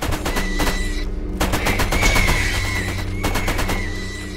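Turret gunfire in Borderlands, rapid automatic bursts rattling in dense rhythmic volleys with short pauses between, loud and close, over a humming game background and no talk.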